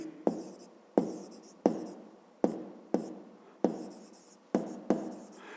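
A pen taps and scratches on paper in short bursts, about eight quick strokes at a steady pace, close and quiet, with no talking.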